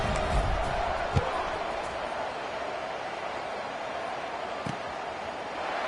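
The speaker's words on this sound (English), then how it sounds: "this crowd is buzzing after that last score" Steady crowd murmur fills a college football stadium during a Baylor game, a dense, continuous roar with no standout cheers, a couple of brief thuds rising above it.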